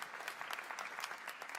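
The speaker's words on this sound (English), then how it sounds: "Honestly, they all deserve a round of applause." Audience applause at a student-voice education talk, a short, quiet patter of clapping hands that stays even and fairly distant throughout.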